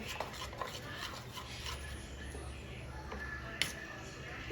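Garlic dhokla batter made with garlic and chili is beaten in a bowl, giving close, wet scraping and stirring strokes with light clinks of a utensil against the bowl, while a voice talks over it.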